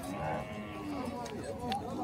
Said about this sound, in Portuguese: Olha o gado dele aí.